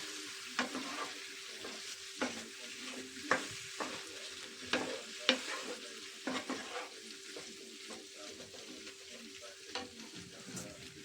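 Small pieces of pork fat sizzle and crackle steadily in a hot pan, with scattered louder pops and scraping stirs throughout.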